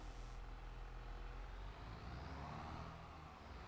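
A Farming Simulator 22 tractor engine runs steadily with a deep, continuous rumble and low throbbing, close and fairly loud, with no voices.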